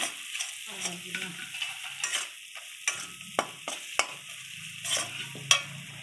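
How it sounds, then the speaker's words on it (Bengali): Masala with onion, salt, turmeric and tomato fries in a kadai of hot oil, soft sizzling broken by repeated sharp scrapes of a spoon stirring against the pan. "নুন, হলুদ, টমেটো সব দিয়ে ভেজে নিয়েছে। এবার মশলা করা ছিল, সে মশলাটা দিয়ে দিয়েছে।"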